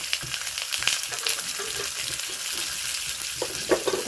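Turmeric, garlic, cumin, mustard seeds and green chilli fry in hot oil on a tawa, giving a steady close sizzle with faint crackles and a few sharper spits, without any talking.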